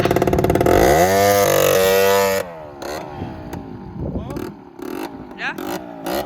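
Small PGO moped engine idling and revving loudly up close for the first couple of seconds, then dropping to a lower, uneven running note with a brief voice over it.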